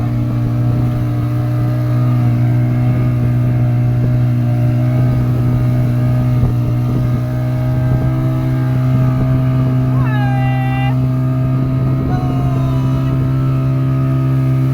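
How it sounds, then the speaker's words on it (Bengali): A motorboat at sea runs close by with a loud, steady engine drone and deep hum that holds throughout, with brief higher tones flickering above it. "এই দেখো বোট চলে এসেছে প্রায় অনেকটাই চলে এসেছে"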